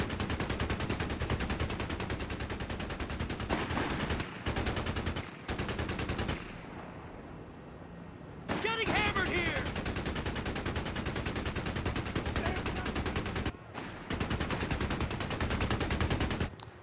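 Heavy World War II battle gunfire from Company of Heroes 3, a strategy video game set in Italy near Potenza, with sustained machine-gun bursts and rifle fire, loud and continuous, broken by a few short lulls.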